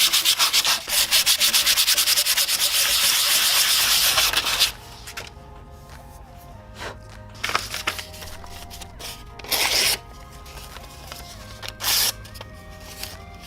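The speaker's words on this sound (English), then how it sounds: "Now I'm gonna sand off all the caca with some pretty light grit sandpaper." A hardened steel knife blade, a karambit, sanded with 160 grit sandpaper in a loud, rapid back-and-forth rasping run, then quieter with a few short scrubbing bursts and light handling noises.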